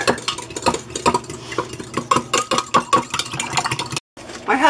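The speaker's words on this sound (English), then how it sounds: "I stir my hot chocolate and other things with a fork because it just works better." A fork scrapes and clinks rhythmically against a mug while stirring hot chocolate, close and fairly loud, with a brief gap near the end.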